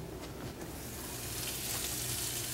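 Banana-crusted rockfish sizzles in a hot frying pan, a steady close hiss of frying that grows slightly louder, with no voices.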